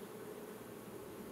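Honeybees fan and buzz at a hive during a virgin queen introduction, a dense, steady hum of many wings, close and even through the brief moment.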